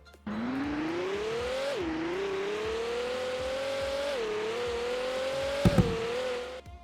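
A car engine in the Roblox game Vehicle Legends revs continuously while driving, pitch climbing through gears with a couple of shifts, a sharp click near the end, loud and steady throughout.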